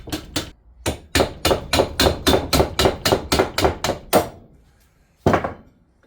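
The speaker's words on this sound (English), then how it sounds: "So I'll put that on there and get the old rubber hammer out" Old rubber hammer striking a car suspension coil spring during shock absorber removal, about a dozen loud, steady blows in quick succession, then a pause and one final hit.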